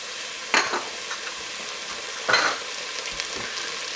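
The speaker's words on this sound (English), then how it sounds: "we got some sound on here. Those onions are starting to cook" Onions with ginger and garlic fry in a pan for a creamy pumpkin soup, a steady sizzle with two bursts of stirring scrapes near the cook.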